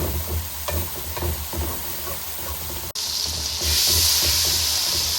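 Spice masala frying and being stirred in a pan for a Bengali bata fish curry with tomato and green peas: steady close sizzling with repeated scraping stirs, the hiss growing brighter and louder toward the end.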